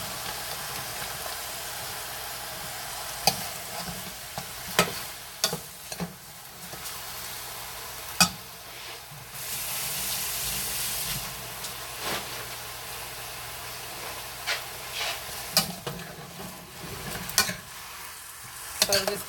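Oxtail seasoned with green seasoning stirred in a hot pot, a steady hiss of sizzling fat with repeated spoon scrapes and clanks against the pot over nearly twenty seconds, fairly close and without talk.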